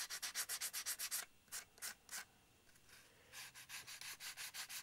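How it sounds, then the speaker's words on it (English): Sandpaper stuck onto a balsa wood block rubs back and forth across a small curved object in quick, even strokes, a close, rhythmic scratching with a brief pause midway before the strokes resume. "So made some tools by sticking sandpaper on balsa wood."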